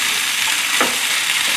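Yucai greens frying in a pan, a steady broadband sizzle throughout with a brief louder stir or toss in the middle, close and continuous with no talking.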